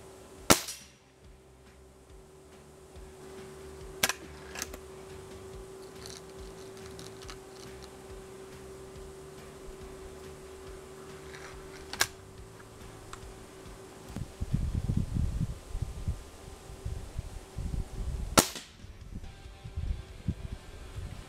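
Ruger Air Magnum .22 air rifle cocked and fired, giving a few sharp isolated cracks spaced several seconds apart over a quiet background, with a burst of rattling mechanical handling noise near the end.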